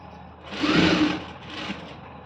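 A sewing machine stitches the pleats of a school uniform skirt in two close, steady whirring runs, the first longer and louder, the second brief and softer.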